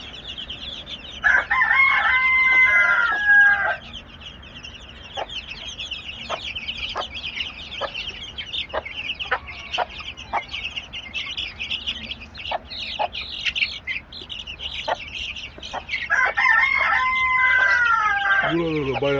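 Guinea fowl chicks and chickens cluck and squawk in short bursts on a farm, with a rooster-like call near the start and end, close by with faint background noise.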